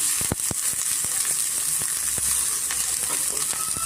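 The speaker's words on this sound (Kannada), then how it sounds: "ಈಗ ನಾನು ಆನಿಯನ್ ಸೇರಿಸ್ಕೊತಾ ಇದ್ದೀನಿ. ಸ್ವಲ್ಪ ನಾವು ಫ್ರೈ ಮಾಡ್ಕೊಳ್ಳೋಣ." Chopped onion sizzles in hot oil in a pan for homemade egg noodles, with a dense, steady crackle and some sharper pops throughout.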